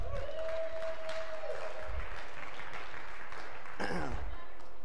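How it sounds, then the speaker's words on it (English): An audience at a live inspirational podcast event claps steadily and continuously, a dense wash of applause throughout, with a brief voice and a short tonal sound in the background. "I wasn't wanting the clapping, but okay"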